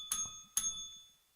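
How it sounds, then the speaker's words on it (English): A bell on a talk show rings twice in quick succession, bright and clear, each strike fading with a lingering ring in an otherwise quiet moment. "So ring the bell."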